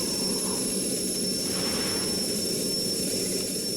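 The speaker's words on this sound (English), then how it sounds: "I hear a jet noise." Jet engine roar from a fighter flyby in the Strike Fighters 2 flight game: a loud, steady broadband rush that swells briefly near the middle and fills the whole clip, with no talk.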